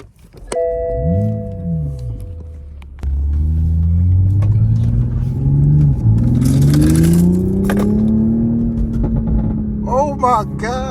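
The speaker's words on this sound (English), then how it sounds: "Well, turn the car on first." Toyota Supra engine cranking to life and revving, a loud low rumble that swells and falls in rising sweeps after a chime, heard up close with people exclaiming nearby.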